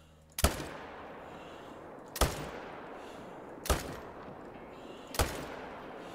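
Assault rifle fire in the hunting game theHunter Call of the Wild, four single loud shots spaced a second or more apart, each with a short echoing tail, and no speech.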